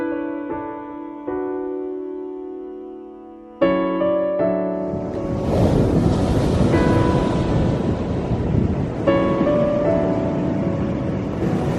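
Ocean surf at dawn on the California coast. It starts as a sustained tonal drone, then a broad, steady wash of waves swells in and continues, close and fairly loud, with wind buffeting the microphone.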